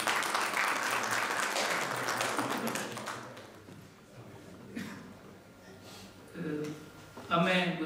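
An audience at a literary gathering applauds, a loud, sustained burst of clapping that gradually thins out into scattered claps, with a voice speaking over the end.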